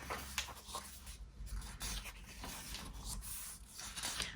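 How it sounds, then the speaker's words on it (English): Paper pages of an MD Diary 2022 one-day-one-page planner flipping by hand: quiet, continuous brushing and rustling with repeated soft page swishes, no talk. "So let me just flip through some of the monthlies so you can have an idea of how they look."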